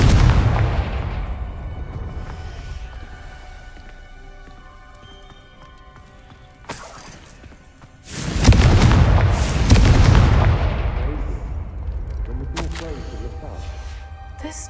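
Confringo spell blasts in the Hogwarts Legacy video game, with a sharp loud burst and rumbling explosion around the middle, followed by crackling debris. Spoken voices come before and between the blasts.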